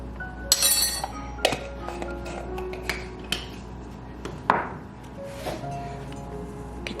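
A whisk beats egg-free risol wrapper batter in a bowl, giving a run of irregular bright clinks and taps against the bowl, close and fairly loud, with no talking.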